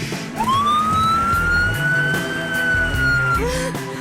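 An ambulance siren wails as one long rising and held tone under steady low rumble and clatter, with a second shorter siren note near the end, set in a tense school drama scene.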